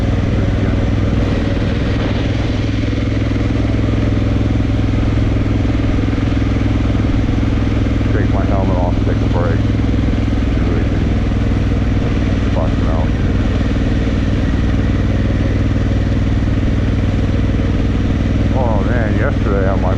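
Adventure motorcycle engine droning steadily while the bike rides over loose, rolling stones that are super slippery, a constant loud rumble with faint clatter throughout and a few brief whistling chirps.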